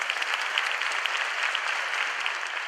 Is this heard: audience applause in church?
yes